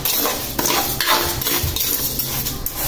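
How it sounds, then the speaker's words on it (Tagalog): Rice being stirred and toasted in a pan to make coffee, with close scraping and clinking of a utensil against the pan and a faint sizzle running steadily throughout. "Halo-haluin lang po ito."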